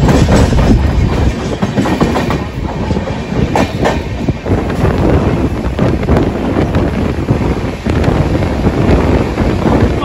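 The Darjeeling Mail passenger train runs on its tracks, a loud, steady rumble with rhythmic clickety-clack of wheels over rail joints and buffeting wind noise against the microphone throughout.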